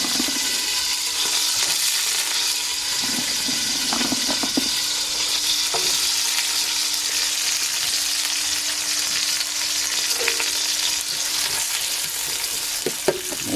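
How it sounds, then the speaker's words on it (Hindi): Onions fry in hot ghee in a pan, a steady close sizzle with occasional clinks and stirring scrapes throughout. "प्याज ब्राउन होने देते।"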